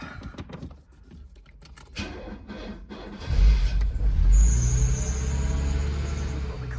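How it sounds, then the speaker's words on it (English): Mercedes R107 280SL with a freshly resoldered fuel pump relay cranks with rapid clattering, then its engine catches at about three seconds and settles into a loud, steady rumble close by. "Let's see if this car fires up."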